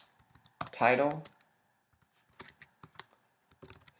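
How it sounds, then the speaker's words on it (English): Typing code into an implementation file on a computer keyboard, a quick run of close keystroke clicks that resumes after a short spoken word. "typing self navigation controller"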